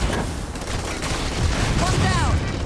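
Turret gunfire striking a ship in the video game Starfield, a dense, loud barrage of rapid shots and impacts, with a voice briefly heard over the din.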